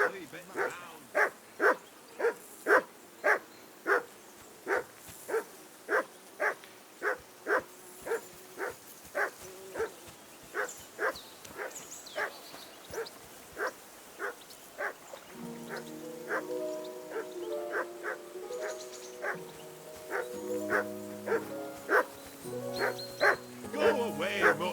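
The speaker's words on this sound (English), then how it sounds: "That barking was a pain in the ass." A dog barks in the medieval video game Kingdom Come: Deliverance II, loud and regular, a steady run of evenly spaced woofs before dialogue and a musical tune take over partway through.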